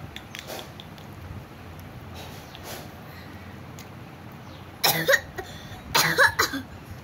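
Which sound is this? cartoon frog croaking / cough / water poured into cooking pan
cough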